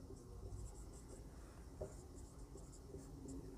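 Pen writing on paper while solving a physics problem, a close, quiet scratching of short strokes over a steady background hiss.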